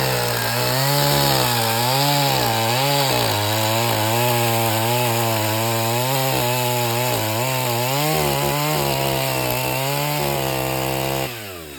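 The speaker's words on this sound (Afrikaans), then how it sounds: "Speciale kettingsaag wat hulle gebruik vir hierdie tipe van goed" A special carving chainsaw cuts into wood to shape a toddler's chair, its engine whining loudly and continuously up close, the pitch rising and dipping repeatedly as the blade bites, then cutting off at the end.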